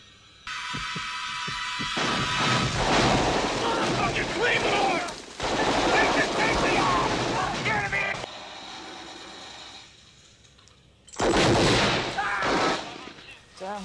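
Gunfire from a war movie scene set in Vietnam, playing back as loud bursts of shots and blasts mixed with film music and dialogue, with a quieter lull before a final loud burst.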